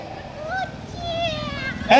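Cat-like meows, probably voiced by a performer, sound during an Indonesian health workers' stage talent show, with several rising and falling mewing calls and a louder sound at the very end.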